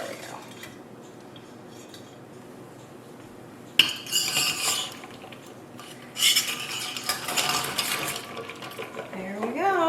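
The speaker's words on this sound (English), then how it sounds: "just have to get them out of here and into the ice bath" Hard-boiled quail eggs are lifted out of an Instant Pot into an ice bath: quiet at first, then bursts of clattering utensil and metal-pot knocks with some watery splashing, loud and close, in two main busy stretches.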